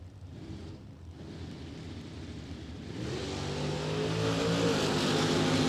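A Plymouth Cuda drag car at a hot rod reunion drag strip, its engine roar building and growing louder as it accelerates away toward the top end, heard from a distance.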